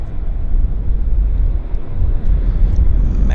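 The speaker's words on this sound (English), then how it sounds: "So this Boeing just arrived from Mexico City." A Boeing airliner arriving at Vancouver airport after a flight from Mexico City, heard as a steady, loud low jet rumble with wind buffeting throughout and no talk.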